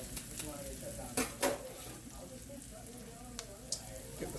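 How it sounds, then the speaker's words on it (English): Squash frying in a pan, a faint steady sizzle close by with a few sharp clinks of a utensil against the pan. "we will let the squash fry a good 10, 12 minutes"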